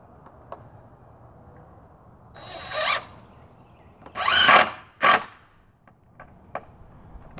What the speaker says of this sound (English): Now we'll go ahead and finish putting our screws in here.